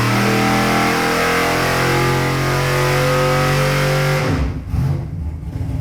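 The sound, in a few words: 570 horsepower big block engine revving in C10 truck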